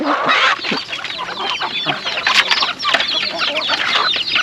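Chickens cluck and squawk loudly and close by in a rural Thai setting, a busy, overlapping stream of clucks and agitated calls with no pause across the whole stretch.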